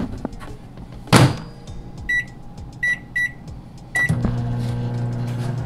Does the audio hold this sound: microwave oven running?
yes